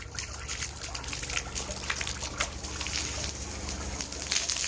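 A splash pad water nozzle sprays and trickles continuously from close by, shooting straight up and bubbling over itself, a steady splashing hiss with small bursts and gushes throughout.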